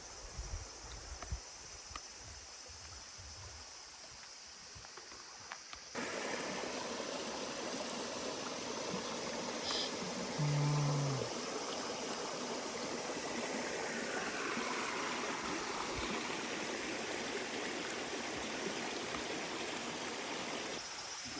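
A waterfall rushes in a steady, broad hiss that grows fuller partway through, with a faint brief tone in the middle and no talking.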